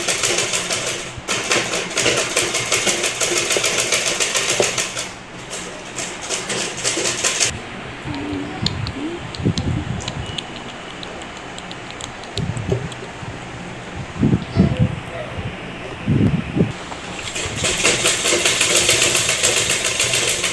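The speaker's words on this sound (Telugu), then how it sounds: "ఇలా పైపింగ్ లాగా చుట్టుపక్కల కుట్టుకుంటే నీట్గా మనకు కనిపిస్తుంది" A sewing machine stitches cloth piping around the edges of a house mat, a steady motorized whirring hum that runs on and off in bursts, close and fairly loud with no talking.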